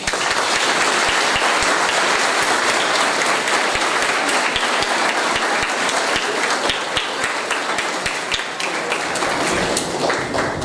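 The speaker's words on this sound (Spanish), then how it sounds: "Un aplauso," A school ceremony audience of students' families applauds steadily, dense sustained clapping with sharp individual claps standing out, loud and continuous throughout without talk.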